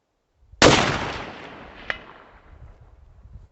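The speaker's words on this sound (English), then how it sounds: "Alright, shot number 2." A single sharp report from a Tikka Superlite .30-06 hunting rifle firing Core-Lokt ammunition outdoors, loud and close, with a long decaying echo tail and a smaller clack shortly after.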